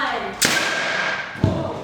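An air cannon driven by an air compressor fires twice, each shot a sharp, loud thump about a second apart, over a steady hiss of rushing air and background noise.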